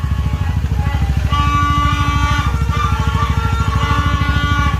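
A Honda Alpha 125 motorcycle engine warms up at a steady idle, giving a continuous close, loud throbbing rumble with even pulses and faint tonal notes above it.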